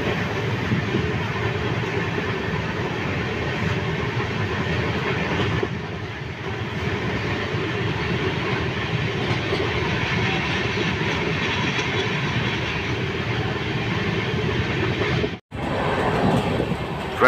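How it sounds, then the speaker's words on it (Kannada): A Bengaluru–Tirupati passenger train runs through Malur railway station at about 100 without stopping, heard from on board as a loud, steady rumble and rattle that drops out briefly near the end. "ಈಗ ನಮ್ಮ ಟ್ರೈನು ಮಾಲೂರು ರೈಲ್ವೆ ಸ್ಟೇಷನ್ನ 100 ಸ್ಪೀಡಲ್ಲಿ ಸ್ಕಿಪ್ ಮಾಡ್ತಿದೆ"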